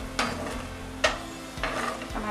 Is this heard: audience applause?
no